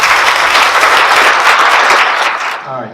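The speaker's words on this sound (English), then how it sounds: "Let's give them all a big round of applause." A crowd applauding police officers at a swearing-in ceremony, with loud, sustained clapping from many hands in an indoor hall that tapers off near the end as a voice begins to speak.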